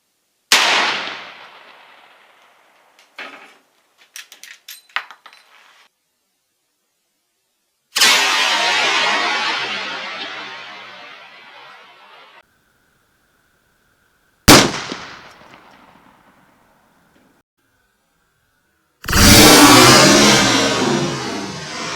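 Four sharp 45-70 rifle shots of HSM 430 grain hard cast bullets fired at sheet metal outdoors, each a loud crack with a long decaying tail, plus a brief cluster of clattering clicks between the first two.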